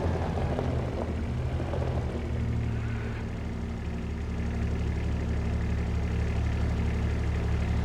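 Quad bike engine idling steadily in a video game farm setting, a continuous low rumble with no talk over it.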